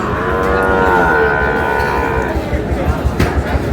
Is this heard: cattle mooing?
yes